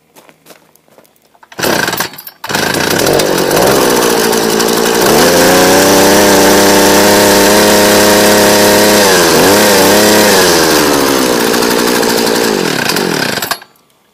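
A two-stroke tiller engine fitted with a new Dellorto carburetor starts after a brief cough, then runs loud and close, holding a steady idle before revving up and settling back, with no talk over it.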